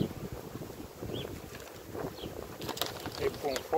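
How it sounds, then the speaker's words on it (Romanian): Cold, harsh wind gusts past the microphone at an outdoor beehive, giving a rumbling, buffeting rush that rises and falls and swells at the end, with faint handling clatter. "Iată ce vânt urât și rece a pornit."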